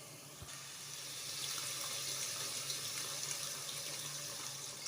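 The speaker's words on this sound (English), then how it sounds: "I'll add in my beef and my chicken stock" Beef and chicken stock pours steadily into a pot of jollof rice, a continuous close splashing, liquid rush that swells after the first second and holds to the end.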